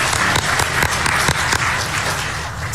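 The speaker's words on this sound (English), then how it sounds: "I'd like to give you a round of applause" Sustained audience applause fills a Washington DC hall after a cybersecurity speech, dense steady clapping at close range with no voices over it, holding nearly level throughout.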